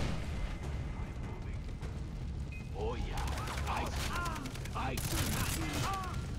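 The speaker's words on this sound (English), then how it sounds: "Grenade." Gunfire and a grenade blast in Far Cry 3, a dense run of sharp bursts and pops across the middle and end, fairly faint and mixed with background game noise and a voice.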